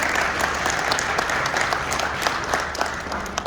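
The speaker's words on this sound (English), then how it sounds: "So can you give yourselves a round of applause?" Steady applause from an audience at a political fundraising event in a convention centre, a dense wash of many hands clapping continuously throughout.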